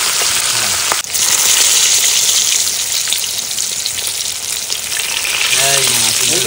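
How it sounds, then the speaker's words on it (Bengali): Pieces of river fish, guchi-style eel and bele goby, fry in hot oil for an outdoor picnic meal, giving a steady, close, loud sizzle and crackle that runs without a break from start to finish. "খুব সুন্দর ভাজা হচ্ছে মাছ, লাল লাল।"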